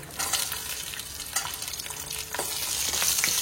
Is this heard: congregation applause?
no